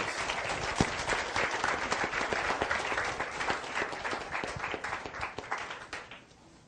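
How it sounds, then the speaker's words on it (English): A group of people applaud at a talk or meeting, a full, close crowd of clapping that holds steady for several seconds before fading out at the end. "Give yourself an applause."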